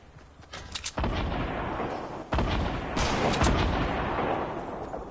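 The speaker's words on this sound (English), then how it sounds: "I got shot from behind me" Rapid bursts of gunfire in the battle royale video game Fortnite, played on PS4 Pro, with loud repeated shots starting around the first second and continuing in several volleys, booming and dense, with no talk over them.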